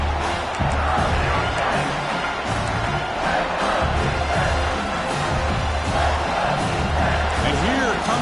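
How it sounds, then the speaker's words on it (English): A college football stadium crowd at a Wildcats versus Huskies game roars loudly and continuously, cheering and whooping to rally the defense before a red zone stop, with a broadcast commentator talking over the noise. "This crowd is trying to inspire this defense to make a big red zone stop."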